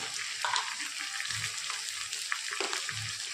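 Onions and tomato fry in hot oil in a pan, giving a steady close sizzle with scattered soft pops and a few low dull bumps.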